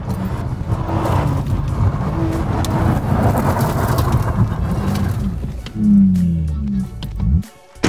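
A small car revs hard twice and swings round in a turn, the engine note loud and close with a rough, gritty roar, then a brief drop before a last burst.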